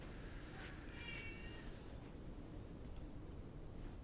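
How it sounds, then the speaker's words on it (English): A pet cat meows faintly in a room during a quiet indoor game session, a couple of thin drawn-out meows over low steady background hiss, then fading into quiet room noise. "you will hear my cat from time to time"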